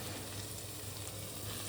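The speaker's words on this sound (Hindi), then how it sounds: "देखो जी काले चने दा तड़का इज रेडी" Black chickpea tadka sizzling in a hot pan in a home kitchen, a close, steady crackling fry that holds at an even level throughout without any voices.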